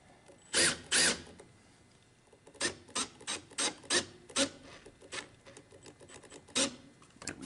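A power drill drives screws into the molding of a small wooden mini chest, with a series of short whirring bursts of varying length and pauses between them.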